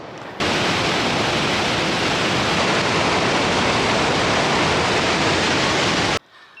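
Athirappilly waterfall, a loud, steady roar of rushing, crashing water that fills the whole clip without a break, heard up close and alone before cutting off abruptly.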